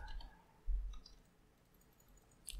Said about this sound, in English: I'm just going to click on save.